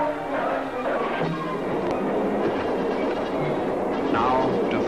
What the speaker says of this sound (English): The locomotive chase starts all over again in the opposite direction.